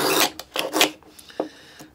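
A hand plane, a cheap Home Depot, Dollar Tree or Buck Bros model after a tune-up, cuts across wood end grain in a few close, raspy strokes, the first long and loud, then two shorter passes and a fainter scrape.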